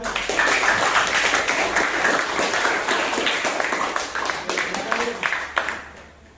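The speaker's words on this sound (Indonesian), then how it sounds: "Kasih tepuk tangan dulu untuk kelompok 1." An audience in a classroom applauds a student presentation group during a teacher-certification mathematics session, with dense, sustained clapping that gradually thins and fades toward the end.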